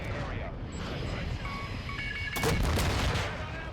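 Gunfire from a Harrier jet's gun during a flyover in Call of Duty: Modern Warfare II, a dense burst of rapid shots that swells loud midway over continuous game battle noise and electronic tones.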